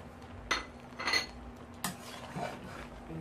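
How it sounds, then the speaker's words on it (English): A spoon stirs callaloo in a pot, making three or four soft scraping sweeps and clinks against the metal, close up and fairly quiet over a faint low hum. "give this a stir"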